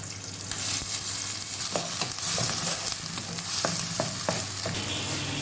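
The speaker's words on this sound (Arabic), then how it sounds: "هننزل بالبصل" Onions sizzle and fry in ghee with a piece of lamb fat, a steady crackling hiss broken by a few sharp stirring scrapes and clinks, with no talking.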